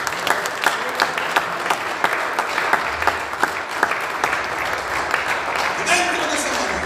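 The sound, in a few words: applause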